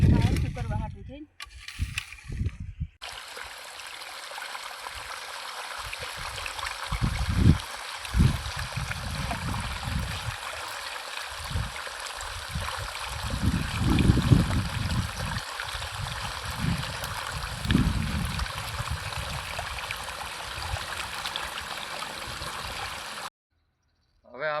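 Irrigation water runs through a farm channel, a steady broadband rushing flow throughout with louder bursts of talk and handling noise over it.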